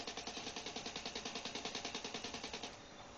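Automatic rifle fire in Battlefield 3, a steady rapid string of about twenty evenly spaced shots lasting under three seconds, loud and alone, then a short tail of ambience.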